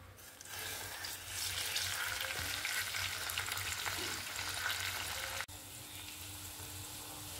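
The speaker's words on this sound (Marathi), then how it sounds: "आता आपण तळूया कोथिंबीर" Coriander leaves frying in a little oil in a pan, a steady broad crackling sizzle at moderate level that drops suddenly to a quieter simmer near the end.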